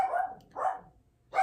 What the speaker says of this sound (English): she wants to bark about it